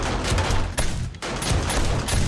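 Shell turret firing during a horde night in 7 Days To Die: loud, continuous rapid gunfire with a brief gap midway, then the barrage resumes at full strength, close and dominant throughout.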